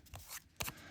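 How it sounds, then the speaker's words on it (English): Two or three faint, quick snips of tiny embroidery scissors cutting thin metal tape, close up and otherwise quiet. "My favorite scissors are these tiny little embroidery scissors"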